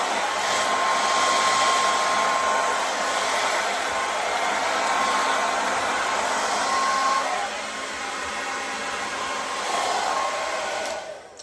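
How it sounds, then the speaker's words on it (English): A handheld blow dryer runs continuously at close range for about eleven seconds while a brush is pulled through hair, a loud, steady whoosh that eases slightly partway through. "I'm going to comb this brush through my hair with the blow dryer"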